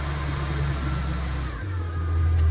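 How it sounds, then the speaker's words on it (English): A 1960 Morris Minor engine is held at raised revs after a cold start, a steady mid-pitched running drone that shifts lower partway through, close and continuous with no talk. "Cold start, Morris Minor, 1960."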